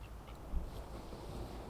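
Ducks by the water at Slapton Ley quack faintly, one soft call standing out briefly over a quiet outdoor background.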